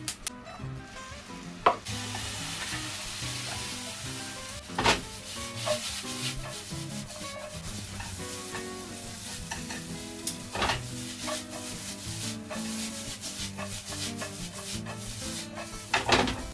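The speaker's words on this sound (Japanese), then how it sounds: "弱火で炒めていきます。" Noodles stir-fried in a pan over low heat: soft continuous sizzle with repeated scraping and clacking of a utensil against the pan.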